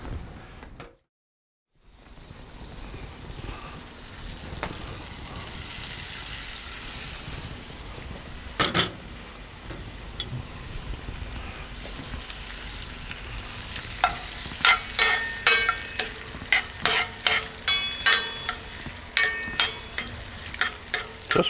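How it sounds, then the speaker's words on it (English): Jumbo lump crab, already cooked, sizzling on a hot burner of a Monument Grills Mesa 400 gas grill, a steady close crackle that grows busier with sharp popping ticks toward the end, no talk. "It's sizzling already."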